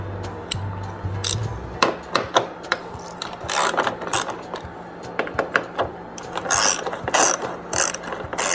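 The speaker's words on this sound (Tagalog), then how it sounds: "gagamit tayo ng 10mm na socket wrench para matanggal natin yung tornilyo na ito na dalawa" A 10mm socket wrench on the tail light screws of a Toyota Rush gives loud, close ratcheting clicks in quick bursts, with short pauses between runs of turning.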